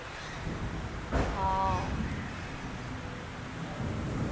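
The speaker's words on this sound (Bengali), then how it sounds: "এখনো বৃষ্টি পড়ছে" Steady rain falls outdoors as a constant wash of hiss, with a short burst of a nearby voice and faint birdcalls over it.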